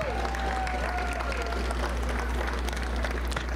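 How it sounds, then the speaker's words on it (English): An outdoor graduation audience claps and applauds at a school expo event, a dense, sustained wash of clapping with crowd noise and a low background hum, fairly loud and steady throughout. "Give yourself a round of applause."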